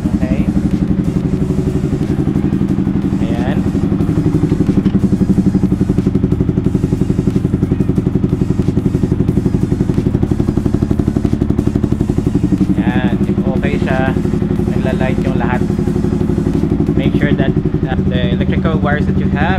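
Yamaha MT15 motorcycle engine running steadily at idle, a continuous low rumble throughout, with a person talking over it in the second half.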